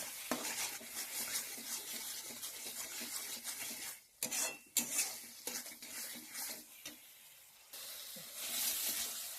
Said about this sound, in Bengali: আলুটা দিয়ে এবার একটু কষিয়ে নেব